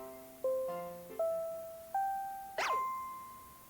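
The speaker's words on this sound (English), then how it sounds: "The bell was ringing." A school bell chime in the Pokémon Violet video game plays a sequence of clear ringing tones in an ascending pattern, each one decaying, joined near the end by a short bright shimmer.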